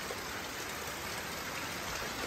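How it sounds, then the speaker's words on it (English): Steady rain falls across a roadside village in Equatorial Guinea, a dense, even hiss of drops on surfaces that holds at constant loudness throughout, with no voices. "to see if I can wait out the rain, that it will maybe become a little bit less"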